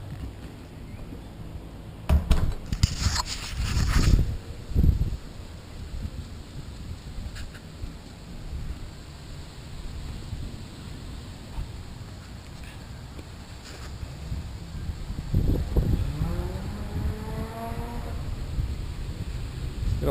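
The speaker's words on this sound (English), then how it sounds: "It's super windy out there." Strong wind blowing outdoors on a very windy day, rushing and buffeting the microphone in irregular gusts, loudest in bursts early and late, with quieter stretches between and a faint voice-like sound near the end.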